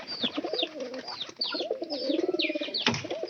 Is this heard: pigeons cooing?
yes